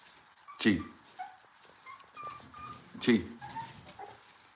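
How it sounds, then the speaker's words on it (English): Pit bull dogs whimpering and yipping softly indoors, two louder whines standing out against quieter whimpers, with someone talking to them over the sounds. "Those are pit bulls."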